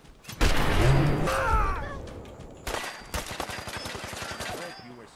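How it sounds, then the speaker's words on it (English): Rapid bursts of video game gunfire crackle in a brawler set in Boston, with sustained loud volleys at first, then a sharp break and quicker repeated pops over a noisy battle bed. "I'm being shot at."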